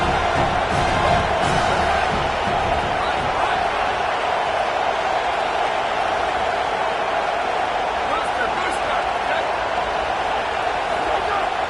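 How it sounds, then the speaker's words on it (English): Home stadium crowd at a Miami versus Notre Dame college football game roars in a dense, sustained wash of cheering and noise with no pauses, loud throughout. "Here comes this home crowd"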